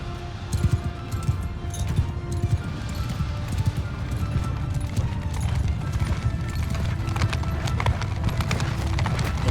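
A horse's hooves clip-clop rapidly and continuously in a Mount & Blade II Bannerlord battle, close and loud over a busy rumble of fighting and clinking metal.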